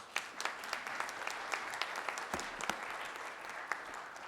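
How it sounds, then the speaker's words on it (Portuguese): Audience applause fills a solemn legislative session honoring a late deputy with the Tiradentes Medal, a steady, moderately distant wash of many hands with a few sharper claps standing out, no voices over it. "Uma salva de palmas."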